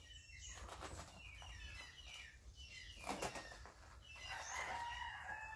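A pintik rooster crows outdoors, the call faint and distant among chirping birds and rustling background ambience with no talking.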